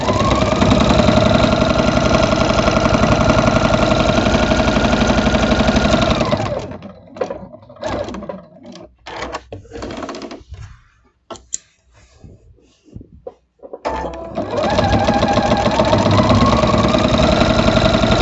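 Domestic sewing machine quilting a diamond pattern on a small Christmas piece: a loud, steady motor hum for about six seconds, then a pause with soft handling clicks and rustles, then the stitching hum starts again.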